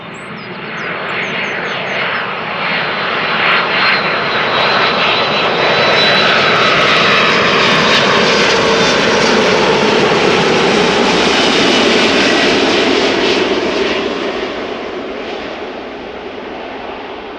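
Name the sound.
airplane at Amsterdam Schiphol Airport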